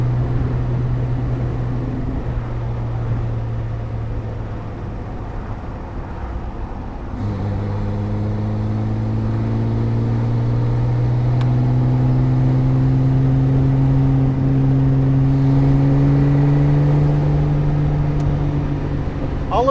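A restored 1960 Austin Healey 3000 BT7 on the road, its engine humming steadily, then shifting and climbing in pitch as it accelerates, with a continuous close drone inside the car.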